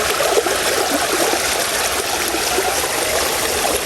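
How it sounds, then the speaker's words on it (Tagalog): Floodwater from an overflowing river and dam surges past nearby, a constant heavy rushing roar that stays loud and unbroken, with no talking over it. "Pag-agos po ng tubig"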